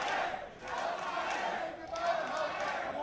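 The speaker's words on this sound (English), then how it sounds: "Listen to this crowd, though." Wrestling show crowd at a Joppa, Maryland event cheering and shouting continuously, a dense roar of many voices swelling and dipping over a few seconds.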